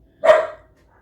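A single sharp dog bark, close and loud, indoors, rising abruptly and fading within a fraction of a second against near silence.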